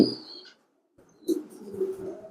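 Racing pigeons in a loft give soft cooing calls, faint and intermittent, with a short silent gap and a brief chirp among them.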